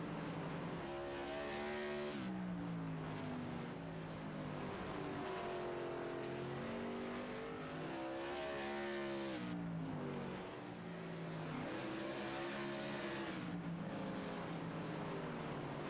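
Modified race cars circling South Boston in iRacing, engines roaring loud and steady, their pitch rising and falling as the pack shifts through each lap.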